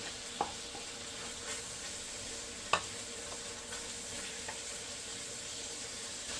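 Garlic and ginger sautéing in a pan for ginisang upo, a steady close sizzle with occasional stirring clicks and scrapes of a utensil against the pan, no talking.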